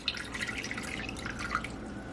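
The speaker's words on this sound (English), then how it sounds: "So we're gonna add water." Water trickles and drips into a baking pan to set up a water bath for Puerto Rican bread pudding, with light splashing and bright droplet ticks, close and quiet.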